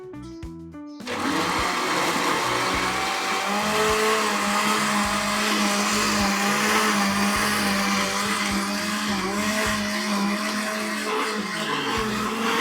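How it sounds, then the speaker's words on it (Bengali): An electric blender starts after a second of quiet and then runs loud and steady, a high whirring motor drone with a rattling grind that holds until the end, with no talking. "এইবার খুব সুন্দর করে ব্লেন্ড হয়ে যাবে"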